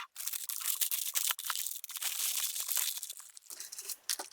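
Beef ribs smoked hot and fast on a charcoal barbecue are wrapped tightly in butcher's paper, giving close, loud crinkling and rustling that runs nearly continuously with brief pauses and no speech.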